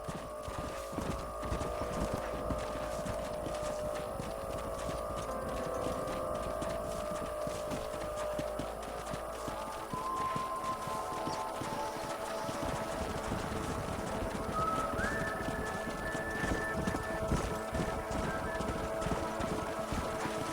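Horses' hooves clip-clopping in the Western video game Red Dead Redemption, a steady walking rhythm under continuous game ambience and music.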